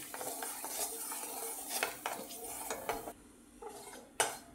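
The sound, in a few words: whole cumin seeds sizzling in hot oil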